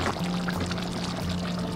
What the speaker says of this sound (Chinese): 把这个汤汁淋在豆腐表面